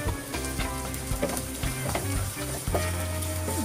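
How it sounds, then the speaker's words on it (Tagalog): Garlic and onion sauté in hot cooking oil, a loud close sizzle with frying crackle and occasional stirring clinks, steady throughout without speech. "Maglagay ka ng mantika, igisa mo yung garlic, isunod mo yung sibuyas."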